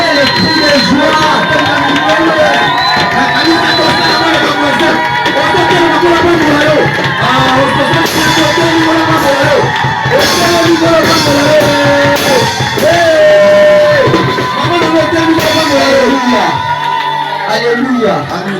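A church congregation raises loud shouts and joyful cries, a dense crowd roar sustained throughout, with a preacher's voice speaking over it.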